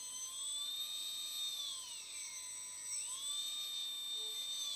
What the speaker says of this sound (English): it's revving up, meaning it's a back motor